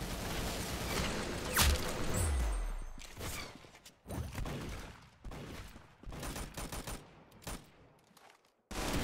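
Gunshots in the Roblox shooter Arsenal: a series of sharp bursts and cracks with whooshing effects, irregular and fairly close, with short gaps between volleys.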